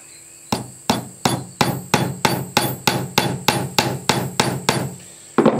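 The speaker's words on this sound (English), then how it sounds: "We're going to use number 4 finish nails on this since we're using plywood here." Hammer blows drive number 4 finish nails into a plywood birdhouse: about a dozen sharp, evenly spaced strikes, loud and close, with no talking.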